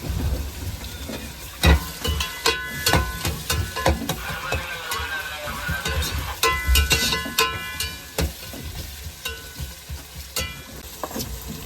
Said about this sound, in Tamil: பார்த்தீங்கன்னா அழகாக வெங்காயம் வசங்கிட்டு இருக்கு.